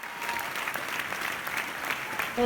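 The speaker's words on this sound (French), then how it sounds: "Les applaudissements s'intensifient quand Jean-Louis Trintignant et Fantine apparaissent sur le grand écran." Applause rises from the audience at a Cannes film screening as Jean-Louis Trintignant and Fantine appear on the big screen: dense, sustained clapping filling the hall, moderately loud.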